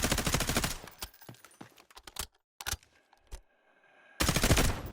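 Automatic rifle fire from the Delta Force game: rapid, loud full-auto bursts at the start, a few scattered shots and short bursts through the middle, then another sustained burst at the end.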